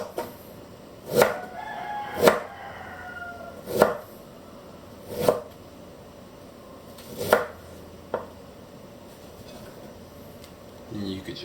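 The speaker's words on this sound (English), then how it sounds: "Take 1 3-inch knob of ginger. Slice it into 1/4-inch slices." A knife slices a three-inch knob of ginger into quarter-inch slices on a cutting board, six crisp, evenly spaced chops heard close up with quiet pauses between.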